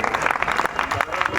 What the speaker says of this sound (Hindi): एक बार तालियां बजा करके अनुमति दें